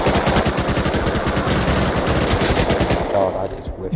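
Rapid automatic gunfire in the video game Rust, a dense, loud stream of shots that cuts off near the end into quieter game background.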